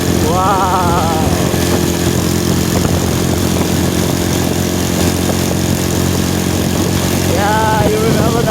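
Motorbikes heading along a road to market, a steady engine drone with a loud, close and continuous rumble, and a voice speaking briefly at the start and end.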